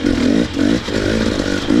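A dirt bike engine fitted with a SmartCarb or Lectron carburetor revs hard in rising and falling pulses on a slick riding track, loud and close with a raspy two-stroke-like buzz.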